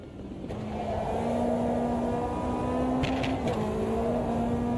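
Race car engine in Automobilista 2 held at steady high revs with a sustained drone, throttle modulated through small pitch dips and a brief lift around the three-second mark, loud and continuous throughout.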